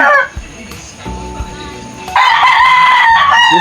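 Loud, close crowing from a six-month-old Alimbuyugin backyard rooster, with a brief call at the start, then a quieter stretch of low rumbling, then a long sustained crow in the second half.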